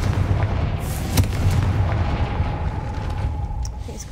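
The Confringo blasting spell explodes in the Hogwarts Legacy video game, a single sharp blast followed by a dense, rumbling roar of debris and ambient game noise.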